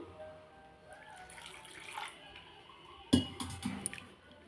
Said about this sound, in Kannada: ಈಗ ಇದಕ್ಕೆ ಇದೇ ಜಾರ್ಗೆ ಸ್ವಲ್ಪ ನೀರು ಹಾಕಿ ಹಾಕೋತಾ ಇದ್ದೀನಿ